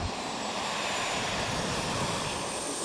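PTERA modular multi-engine heavy, complex high-speed retractable-gear aircraft in flight with engines running, a steady broadband roar and whine holding constant and loud throughout.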